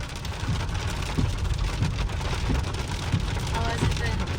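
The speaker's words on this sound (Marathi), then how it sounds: "एवढा धो पाऊस पडतोय." Heavy pre-monsoon April rain pours down in a steady, dense hiss, with drops spattering on nearby surfaces throughout and no break in the downpour.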